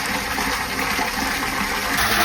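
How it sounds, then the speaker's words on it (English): Water gushes steadily into a septic lift station tank during pump troubleshooting, a continuous loud rushing flow that holds constant throughout with no talking. "it takes a fair bit of water to fill this tank down here"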